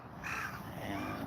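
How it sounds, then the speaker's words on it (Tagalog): Crows give a few rough, raspy caws outdoors, moderately distant and mid-loud over faint background noise. "Marami mga karaso dito"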